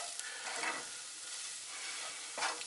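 Omelette frying in a non-stick frying pan aboard a sailing boat, a steady close hiss of sizzling with a couple of brief scraping stirs, no voices.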